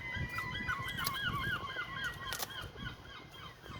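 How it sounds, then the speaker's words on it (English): Seagulls at the Rhyl estuary call out in a rapid run of repeated honking, yelping cries, loud and fairly close, over a rough outdoor background with no one talking. "Something's got the seagulls riled."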